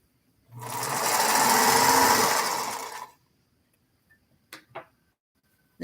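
A sewing machine runs a single steady burst of about two and a half seconds while sewing quilt blocks, loud and close, then stops, leaving a few faint clicks.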